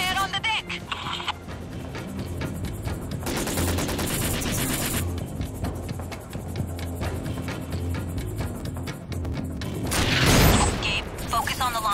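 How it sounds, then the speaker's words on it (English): Sustained gunfire crackles on a ship deck during a Syphon Filter: Logan's Shadow firefight, with rapid mechanical bursts and rattling shots running continuously and swelling into a louder blast near the end. "Gunfire on the deck!"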